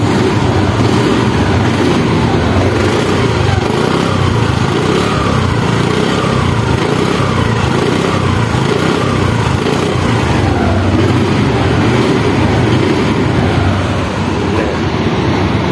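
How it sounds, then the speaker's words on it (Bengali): A second-hand TVS Wego automatic scooter engine runs steadily and smoothly at close range, a continuous low hum with no talking over it. "এখন সাউন্ড কোয়ালিটি শোনাবো সাউন্ড এই গাড়িটা আসলে অটো গাড়ি তো সাউন্ড বোঝা যায় না মানে একদম মিষ্টি সাউন্ড দেখেন"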